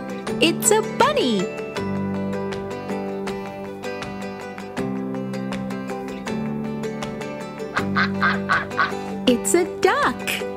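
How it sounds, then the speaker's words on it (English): A Fisher-Price learning toy plays a cartoonish duck quack amid bright, tinkling jingle music, with a child-like voice speaking over the repeated melody; the quacks come in short bursts near the start and end. "It's a duck."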